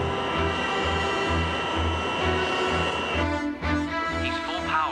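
A fixed-wing aircraft's engines run up to full power before the takeoff roll, a dense continuous roar with steady low droning and a slight shift in tone near the end, loud and close.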